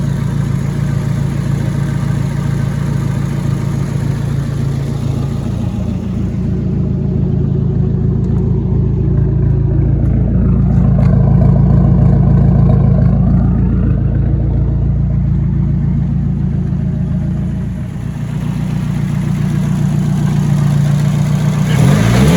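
A Nissan Silvia's engine idles steadily with a low, even rumble, swelling slightly midway before settling back, with no talking over it.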